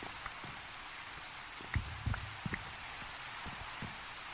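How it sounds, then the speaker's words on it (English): Rain in Minecraft Sky Factory 3, a steady soft hiss of falling rain with scattered individual drop patters on surfaces, close and continuous with no talk. "And it's raining."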